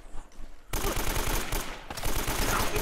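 Rapid automatic gunfire from Uncharted: Drake's Fortune breaks out abruptly after a quieter moment, then carries on loud and steady to the end.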